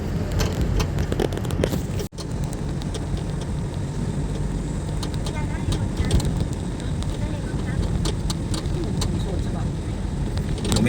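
Airplane taking off on a passenger flight, a steady loud roar of engine and cabin noise filling the whole stretch with a brief dropout near the start and faint voices underneath.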